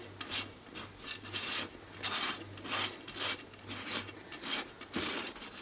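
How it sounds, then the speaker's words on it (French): Knife blade run around the edge of a marble cake in its pan, giving a soft, steady series of scraping strokes, close and fairly quiet, with a faint hum underneath and no talking. "je passe la lame d'un couteau"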